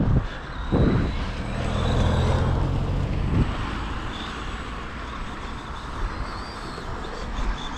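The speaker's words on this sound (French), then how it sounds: "Attention, une voiture." A car in the military game Arma rolls past on a steep ramp, a loud broadband engine and road rumble that swells early and then fades into a steady drone, with no voices.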